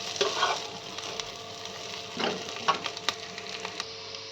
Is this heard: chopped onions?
yes